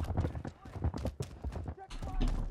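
Horse hooves clip-clopping with a brief neigh inside a first-person shooter match, mixed under gunfire-heavy game audio and someone talking over it.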